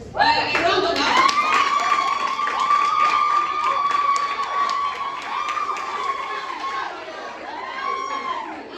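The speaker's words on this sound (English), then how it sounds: "A round of applause." A student audience bursts into a round of applause mixed with cheering and high shouts or whistles. It is loud and sustained for several seconds, then tapers off near the end.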